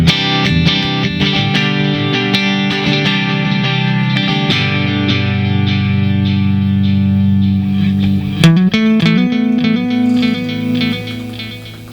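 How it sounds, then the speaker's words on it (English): Electric guitar through a Line 6 HD500 with a tape echo delay, sustained chords and picked notes ringing with repeating echoes, loud and alone, fading out at the end. "So that delay is tape echo."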